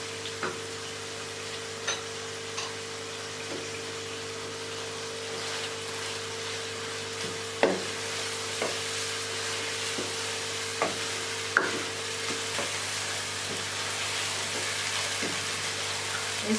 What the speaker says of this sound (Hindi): इसको हमने थोड़ी देर अदरक लहसुन पेस्ट में भून लिया है।